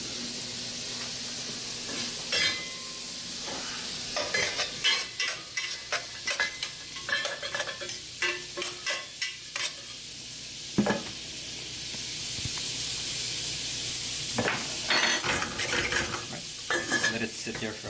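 Asparagus stalks sizzle in a pan of quinoa while a utensil scrapes and clinks against the pan in short irregular bursts over a steady frying hiss.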